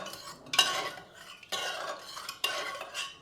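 A spoon stirs boiled dal in a cooking pot, with three distinct bursts of wet scraping and clinking against the metal, close and fairly quiet, with no talking.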